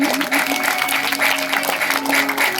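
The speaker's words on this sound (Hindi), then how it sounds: "एक बार अपने लिए भी जोरदार तालियों से अभिवादन" A seated audience at a Hindu Bhagavat Katha religious gathering claps loudly and continuously, a dense bed of applause with a faint sustained tone running underneath.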